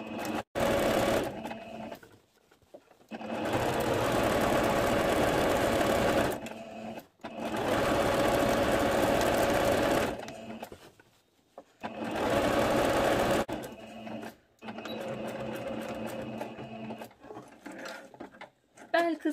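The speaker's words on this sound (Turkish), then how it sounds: "Çektirerek aynı şekilde dikiyorum." A sewing machine stitches an elastic skirt waistband in several long, steady bursts of rapid mechanical whirring, separated by pauses in which someone talks.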